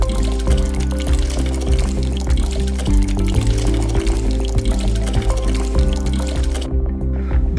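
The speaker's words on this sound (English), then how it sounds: "Next, we pump out the concentrated slurry waste using the lower pump into an empty 20-liter bucket." A pump pushes concentrated slurry waste into an empty 20-liter bucket at a slurry waste bin, giving a continuous gurgling, splashing flow with a steady mechanical throb underneath, close and constant.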